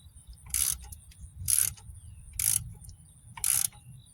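A puller tool worked in slow quarter turns to draw a part off the crankshaft of a 2004-07 Cadillac DTS, giving four evenly spaced ratcheting clicks about a second apart over a low background rumble.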